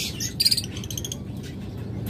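Pet birds such as budgies, mynas, lovebirds, cockatiels and doves chirp in a bird shop, with a burst of bright overlapping tweets near the start, then softer repeated calls over a steady low hum.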